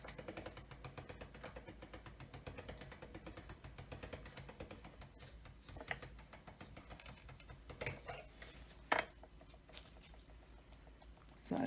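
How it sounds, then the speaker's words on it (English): Polymer clay is fed through a pasta machine, with a steady mechanical rolling and clicking churn that carries on throughout and grows louder toward the end, heard up close. "I will put this through the pasta machine"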